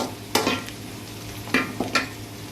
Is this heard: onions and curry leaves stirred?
yes